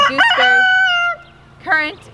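A rooster on an off-grid homestead crows loudly and close by in one long drawn-out call, followed by the start of a second crow.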